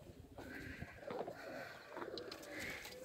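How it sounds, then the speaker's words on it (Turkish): Pigeons coo at a pigeon loft on a farm, with soft, repeated, rolling calls at low volume against light outdoor background noise and no talk. "Bir sürü güvercin yuvası var."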